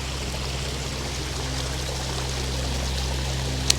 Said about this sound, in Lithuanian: Vandentekis.